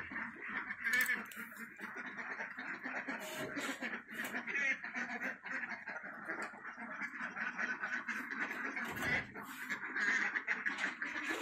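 A flock of farm ducks in a rural province of Pangasinan clamors while being fed, with continuous overlapping quacks and chatter close by throughout.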